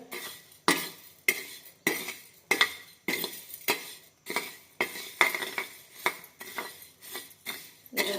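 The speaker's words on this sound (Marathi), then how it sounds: "आता तवा ठेवला तव्यावरती व्यवस्थित भाजून घ्यायचे तांदूळ" Dry rice grains rustle and scrape across a hot griddle as a spatula stirs in a steady rhythm, each sweep a sharp scratch followed by a short hiss.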